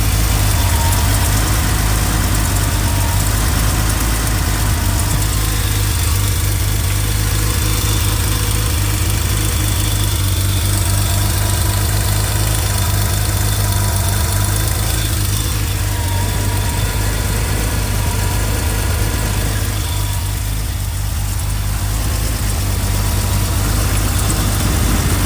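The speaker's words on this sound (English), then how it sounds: "I've got a separate microphone so that we can listen into those pulleys and belts at idle speed" A 1986 Porsche 911 Turbo engine idles steadily with its pulleys and belts whirring, a loud, close, continuous drone with an even low throb that holds for the whole stretch.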